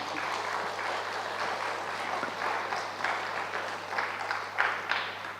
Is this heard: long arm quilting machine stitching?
no